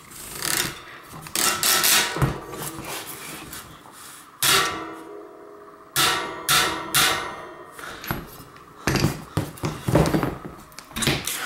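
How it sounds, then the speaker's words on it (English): Bike wheel being tightened with a torque wrench during a 700c to 29er gravel bike conversion, a close series of irregular metallic clicks, ratcheting and rubbing bursts separated by short pauses, with no talking. "with a torque wrench"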